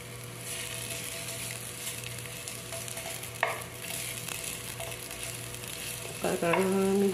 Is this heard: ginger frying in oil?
yes